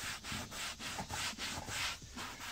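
A sponge with one grippy side rubbed over leather during auto detailing, making close, rhythmic back-and-forth scrubbing strokes, about five passes, with no talking.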